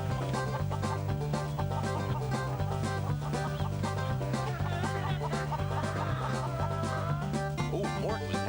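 Chickens cluck through a Mort the Chicken video game cutscene, set against steady looping music with a repeating bass pattern, the clucks loud and busy alongside the tune.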